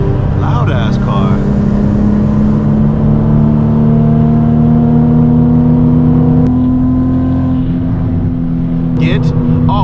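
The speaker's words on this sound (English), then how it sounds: "Loud ass car." A loud car engine drones close by, deep and rumbling, holding steady with a few brief shifts in pitch as it revs.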